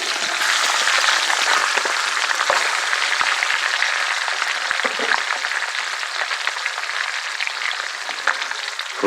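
Pork spare ribs stir frying in a hot pan, a loud dense crackling sizzle that runs continuously with a few stirring knocks.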